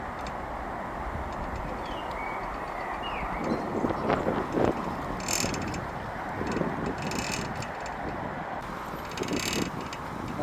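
A low-cost wind turbine built from bicycle parts drives a water pump outdoors, its mechanism whirring and clattering steadily under wind noise, with occasional metallic clicks and knocks throughout.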